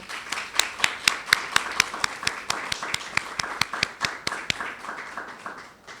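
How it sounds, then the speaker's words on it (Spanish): Steady clapping from a conference audience paying tribute to a woman, sharp hand claps in a dense, fairly even rhythm for several seconds, close and clear with no talk over it. "darle un aplauso a esta mujer importante"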